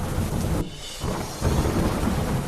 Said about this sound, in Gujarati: માંડવીના મોટા લાયજામાં વરસાદ ખાબક્યો